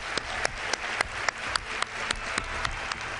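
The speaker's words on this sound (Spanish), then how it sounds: "este aplauso es para vosotros" Studio audience applause on a Spanish radio program, a steady wash of clapping with a regular, sharp tapping pulse through it, moderately loud and without voices.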